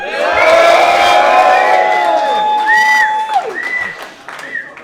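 A lively crowd at a rap battle cheers, whoops and applauds loudly, the noise swelling and then tapering off into scattered shouts.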